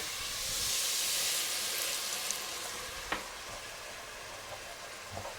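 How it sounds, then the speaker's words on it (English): White wine sizzles and hisses as it hits a hot pot on medium-high heat, a steady frying crackle with a few small pops and clinks. "you want the white wine to sizzle when it hits"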